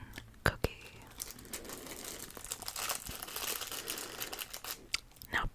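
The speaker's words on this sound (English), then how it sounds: "I thought it would be fun to open a fortune cookie." A fortune cookie's plastic wrapper is crinkled and torn open up close, with quiet crackling and crunching throughout and a few sharp taps at the start and end.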